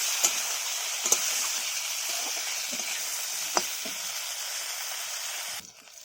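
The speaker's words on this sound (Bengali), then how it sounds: "ঢেঁড়সগুলো ভালো করে একটু নেড়ে চেড়ে দিই।" Okra frying in a pan, a bright steady sizzle with a few sharp scrapes and knocks as it is stirred, close and alone, dropping off near the end.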